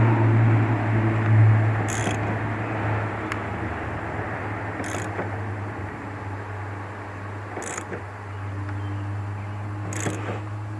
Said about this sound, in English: So now we're going to put our socket on it, because you can never, ever, ever use an air gun on it, and make sure it's good and tight.